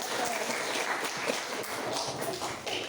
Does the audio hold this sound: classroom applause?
yes